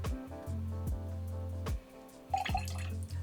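A bar spoon of plain sugar syrup, about 5 ml, poured straight into a cocktail shaker while a white rum cocktail is mixed, giving soft dripping and trickling splashes over steady background music.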